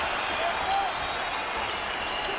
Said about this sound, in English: And it is met by a huge cheer from the London crowd.